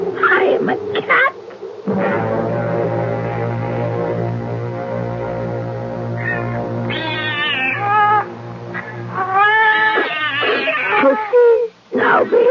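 Several cats meowing and wailing together in a 1976 radio drama, overlapping drawn-out cries and yowls in bursts, loud and close, with a low sustained tone beneath and a brief pause near the end.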